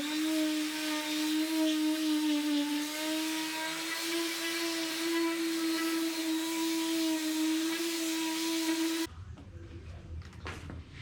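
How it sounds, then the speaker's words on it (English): A power sander works across a table top being repaired, a steady loud whining drone that holds for about nine seconds before cutting off to quiet handling sounds. "So we're gonna sand it real quick"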